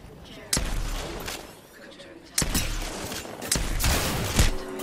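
Gunfire in a shooter video game involving a sniper: three loud, sharp shots spaced about two seconds apart, each followed by a short ringing tail over a steady, busy game background.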